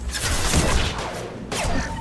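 Dense, continuous gunfire and crashing combat noise from the Mass Effect video game, loud and sustained with bursts throughout and a brief dip before resuming.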